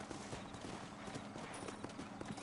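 Horse hooves clip-clop in Red Dead Redemption, a quick steady rhythm of soft thuds under a faint wash of ambient game sound, moderately close, without speech.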